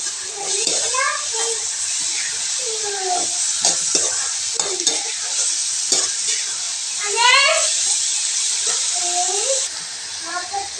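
Homemade chow mein noodles stir-fried in a pan with vinegar and soy sauce, a steady loud sizzle with stirring scrapes throughout, while a person talks over the cooking.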